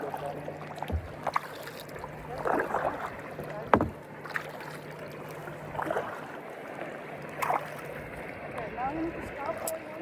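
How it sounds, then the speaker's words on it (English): Kayak paddles dip and stroke through the water of Chau Long Bay at low tide, with soft, irregular splashes every second or two over a steady outdoor background. "Here we are kayaking in Chau Long Bay."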